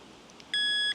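A metal detector in a vineyard gives a steady electronic beep for about half a second, loud and close, after a quiet stretch with faint background noise.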